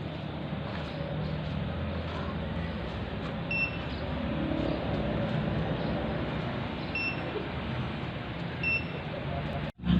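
A few short, high electronic beeps from a rear ultrasonic parking sensor buzzer, sounding when within 1.5 meters, spaced seconds apart, faint over a steady rumble of engine and road noise.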